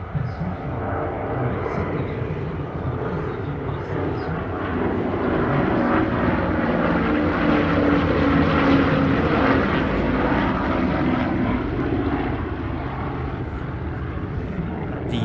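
A Dassault Flamant MD.311, a 1940s French twin-propeller navigation trainer, flies at the Meaux airshow, its engines giving a steady, loud droning roar that swells slightly as it passes.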